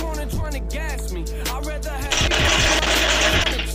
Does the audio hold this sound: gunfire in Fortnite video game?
yes